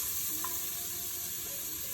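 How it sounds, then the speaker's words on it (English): Onions, garlic and rosemary sauté in oil in a pressure cooker, giving a loud, steady, dense sizzle that holds without pause, with a faint stir or two and no speech. "now I'm gonna saute the onions, garlic, and rosemary"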